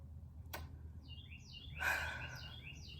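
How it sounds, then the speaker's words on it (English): A few faint, brief bird chirps sound indoors against a quiet background, with a soft click before them. "there is a bird"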